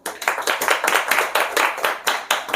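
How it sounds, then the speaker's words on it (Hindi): An audience at a spiritual talk in Delhi claps along in rhythmic unison, a run of a dozen or so sharp, evenly spaced claps, close and loud, with no talking over them. "ताली तो बजाओ।"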